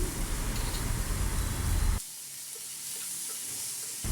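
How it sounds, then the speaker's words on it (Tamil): Onion and tomato frying in a pan for a spicy chutney to go with wheat dosa, a strong sizzle with stirring that drops to a quieter, steady hiss halfway through. "வெங்காயம் தக்காளி இப்போ நல்லா வதங்கி வந்திருக்கு"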